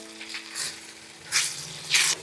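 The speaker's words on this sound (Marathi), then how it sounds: "मॅरिनेट केलेलं फणस आणि बटाटा घातलाय. पहिल्यांदा हे मिक्स करून घेऊया आणि परतूया." Marinated jackfruit pieces and potato sizzle while being stir-fried in a small kadhai for veg biryani, soft hissing bursts rising and falling in a few short waves.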